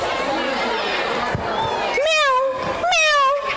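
At a live village game-show event at a temple, a person at a microphone imitates a cat's meow twice in drawn-out, rising-falling calls, preceded by crowd chatter and talk.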